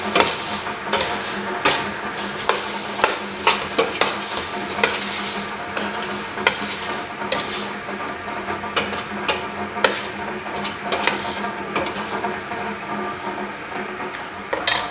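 A spatula stirs ginisang ampalaya, bitter gourd sautéed with pork and ground pepper, in a frying pan, giving a steady sizzle broken by repeated sharp scrapes and knocks against the pan.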